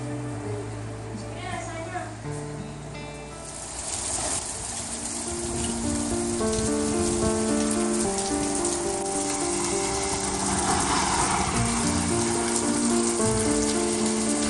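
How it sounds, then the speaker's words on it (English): Steady, dense hiss of rain pattering outside, growing louder after the first few seconds, with sustained tonal sounds and faint voices layered over it. "Can you believe this? Raining outside now."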